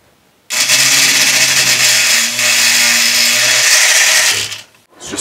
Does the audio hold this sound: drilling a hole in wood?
yes